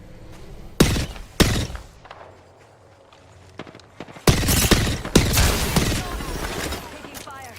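Video game gunfire: two sharp, loud shots ring out, followed by a lull and then a dense, rattling volley of fire up close.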